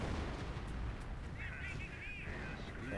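Artillery fire in the World War II strategy game Company of Heroes makes a dense, continuous rumble of blasts with a brief whistling tone in the middle. The sound is steady and fairly loud throughout.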